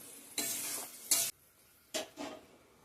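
Hot water poured into a pan of cooked-down egg curry sets off short, loud bursts of sizzling and bubbling hiss, four separate surges with near-quiet gaps between them.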